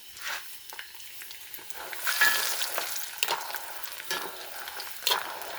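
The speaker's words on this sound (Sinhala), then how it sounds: "මේ ටික බදිනවා දැන්." Peanuts frying and being stirred in a pan, a steady crackling sizzle with scraping stir strokes and a few sharper clinks, close and moderately loud.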